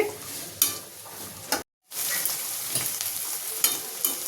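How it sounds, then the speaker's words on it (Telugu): Spiny gourd (boda kakarakaya) slices fry in a pan until well browned, giving a steady close sizzle broken by a few clinks and scrapes of stirring and one brief silent gap, with no talking. "వీటిని బాగా ఎర్రగా ఫ్రై అయ్యేదాకా ఫ్రై చేసుకోవాలి"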